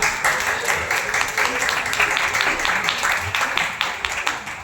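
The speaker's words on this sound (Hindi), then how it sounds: "तो जोरदार ताली बजाकर स्वागत करें भाई सोमा का।" An audience claps loudly to welcome a guest at a spiritual talk, a dense, sustained round of applause with individual claps audible throughout.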